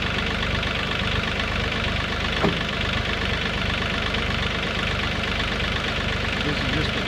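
A small diesel tractor engine idles steadily and loudly nearby, a continuous rough mechanical clatter with no breaks.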